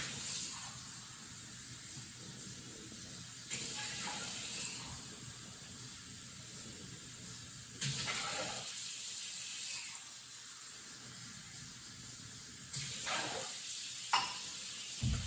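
Rice being rinsed in water for a kung pao chicken dish, giving a soft, steady hiss and swish of grains in running water, with a few louder splashing surges.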